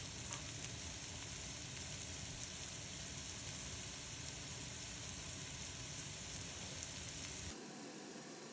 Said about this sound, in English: sauteing and get them translucent and get some good color going with the onion